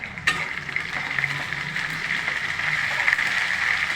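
Green chilies frying in hot oil with sautéed onion, ginger and garlic for an eggplant curry, a steady close sizzle with a brief sharp crackle near the start and continuous bubbling hiss throughout.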